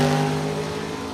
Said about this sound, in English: Another fast hot rod here, the supercharged dragster of Dennis DiValerio.